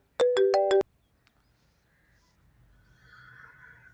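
A phone ringtone plays a quick burst of four bright electronic tones, then stops, leaving a quiet room with faint background noise.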